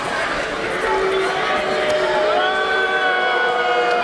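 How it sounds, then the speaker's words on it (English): Crowd at a title fight against a BJJ black belt booing and jeering, a sustained, fairly loud roar with voices and whoops mixed in and some drawn-out tones rising above it. "I'm not a fan of the booing"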